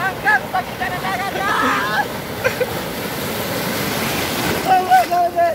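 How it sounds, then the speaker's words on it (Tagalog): Strong ocean waves surge and wash at a beach, a continuous rushing roar with wind buffeting the microphone, while voices shout and talk over it. "Napakalakas ang alon, talaga."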